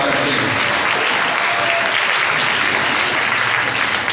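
Steady, dense applause from a church congregation at a Sunday service in the Advent season, sustained and fairly loud throughout without any break.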